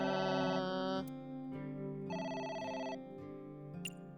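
A telephone rings in the game AI: The Somnium Files: a bright electronic bell-like tone in repeating bursts with short gaps, steady and fairly loud, with no voices.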